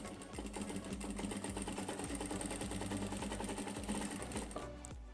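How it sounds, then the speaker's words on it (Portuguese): A sewing machine stitches bias binding along the edge of an old jacket, running steadily with a fast mechanical whirr and rhythmic needle clatter, close and continuous before slowing at the end. "Agora é só ajeitar bem certinho e costurar bem na bordinha para dar o acabamento."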